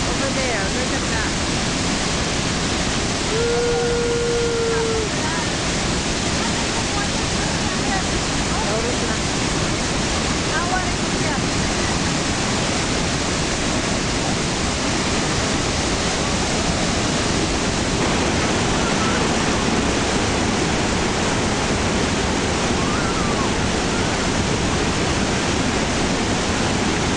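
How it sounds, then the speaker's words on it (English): Rapids below Niagara Falls roar as a dense, unbroken rush of water, loud and close for the whole stretch, with a faint voice now and then underneath. "Those are the rapids."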